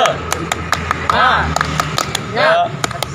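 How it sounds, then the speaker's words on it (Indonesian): An audience performs a rhythmic spirit clap (tepuk semangat) in quick, patterned bursts of claps. Voices call out over and between the beats. "Tepuk semangat."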